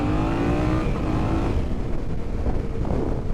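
A Harley-Davidson Sportster S motorcycle accelerating at half throttle in first gear, a loud, close engine roar that rises in pitch and then steadies, no talking.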